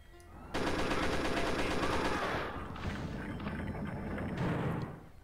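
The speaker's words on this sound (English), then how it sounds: "since they give us some chain gun ammo, let's use it" Sustained rapid chain gun fire in the video game Pirate Doom, a dense continuous rattle of shots lasting several seconds, close and loud, easing slightly midway before swelling again.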